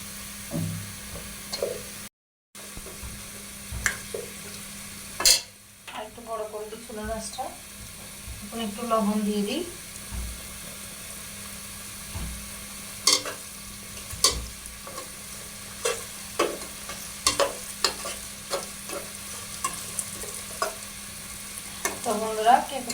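Potatoes frying in a pot for chicken biryani, with a low steady sizzle under intermittent stirring scrapes and clinks of a spoon against the metal, scattered irregularly throughout.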